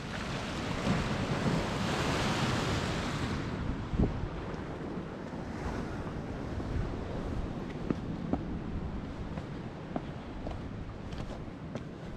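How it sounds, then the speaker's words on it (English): Ocean waves churning and surging against the rocky Angus coast in Scotland, a continuous loud rush of water with heavy wind buffeting the microphone throughout. "Some of these bits are just like a churning cauldron of water."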